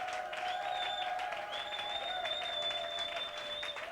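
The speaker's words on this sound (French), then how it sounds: "Acclamons pour le roi des rois." A church congregation claps and cheers in praise, a dense, continuous burst of applause that stays even for several seconds, with high ringing tones and scattered shouts floating above the clapping.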